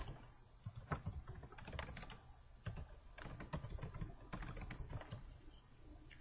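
Someone types on a computer keyboard, making quiet clusters of quick key clicks in short bursts with brief pauses, faint and close, with no voices.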